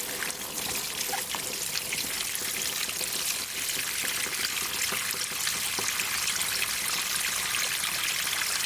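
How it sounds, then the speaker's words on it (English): Water is poured over a potted plant standing in a plastic tub, flooding it. A steady trickle and splash goes on without a break, fairly quiet, and no one speaks. "all you're going to do is water the plant"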